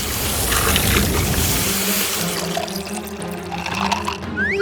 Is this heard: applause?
no